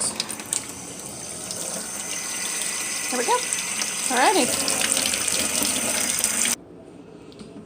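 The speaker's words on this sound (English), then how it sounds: "the sink's got plenty of water in it" A kitchen sink tap runs steadily, water pouring in as the basin fills for scouring Merino wool locks; the broad hiss carries close and loud for most of the clip, then stops abruptly near the end, with brief talk over it.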